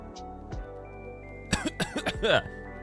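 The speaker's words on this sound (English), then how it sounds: "that was fake coughing" A cluster of several short, forced coughs in quick succession after a quiet moment, close to the microphone, with a couple of small throat sounds before.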